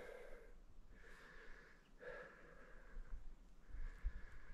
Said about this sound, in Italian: A parte me che respiro, dopo aver fatto tutta sta salita